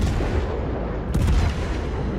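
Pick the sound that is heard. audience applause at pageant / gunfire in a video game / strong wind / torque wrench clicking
gunfire in a video game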